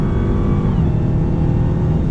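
A 2020 Dodge Charger Hellcat Widebody accelerates hard, its loud supercharged engine droning steadily through the ZF 8-speed gearbox, heard close from inside the cabin with no talk.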